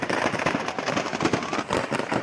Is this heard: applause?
no